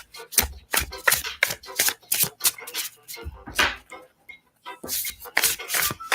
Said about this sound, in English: Now I have room to shuffle.